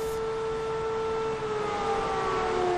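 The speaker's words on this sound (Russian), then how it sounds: "В Нижнекамске за 15 минут можно было услышать 9 сирен." A civil defense warning siren sounding during a test in Tatarstan, a loud, sustained wailing tone that holds steady and slowly falls in pitch.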